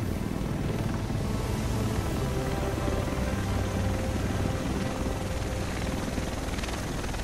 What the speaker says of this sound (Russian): Вот и вертолет.